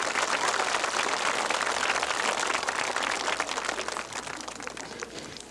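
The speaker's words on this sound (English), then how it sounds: "Let's give him a round of applause." Audience at a school Indian Day event claps in a dense, close round of applause that stays strong, then thins and fades over the last seconds.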